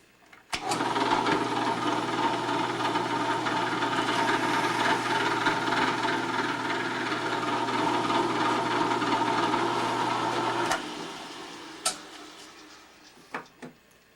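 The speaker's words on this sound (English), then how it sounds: "Drilling frame mounting hole number 3 with the 1/8 inch bit." A steady mechanical whir of a drill with a 1/8 inch bit boring a mounting hole in a metal casting for about ten seconds, loud and close, then stopping, followed by a few brief clicks and taps.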